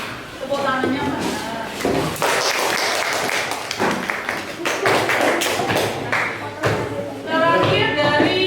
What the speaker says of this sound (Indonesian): Baik, tepuk tangannya mana?